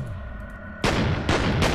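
Two loud, close blasts of dual-pistol gunfire in the shooter game F.E.A.R. burst out after a low humming lull, each crack followed by a booming echo that rings and decays.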